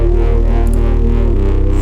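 Heavily distorted guitar chords run through a phaser on a guitar preset, loud and sustained, with one chord change partway through and no talking.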